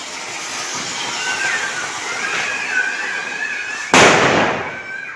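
A firecracker bursts during a festival: a single loud, sharp bang near the end that cuts through a steady hissing, whistling background and then decays quickly.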